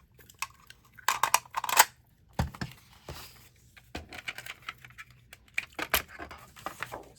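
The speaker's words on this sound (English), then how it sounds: "we'll go ahead and punch this out of this paper" A handheld craft paper punch snaps through paper to cut out an animal-tracks shape. Several crisp clicks and crunches come in uneven bursts, with rustling paper between them, close and fairly quiet.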